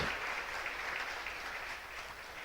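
A church congregation applauds in a steady, dense wash of clapping for a few seconds, moderately distant and fairly quiet, with no talking over it.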